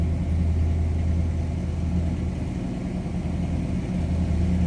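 A 1950 Ford F-1 pickup fitted with a 350 small block engine idles low and steady, a continuous deep rumble with slight unevenness, close and alone with no talk.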